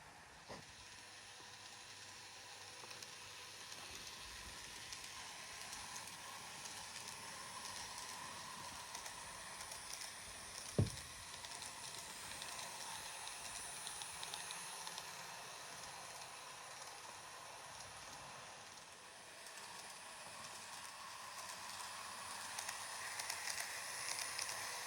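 A small model train runs steadily with a continuous hiss and whir, one brief sharp click partway through, no talking.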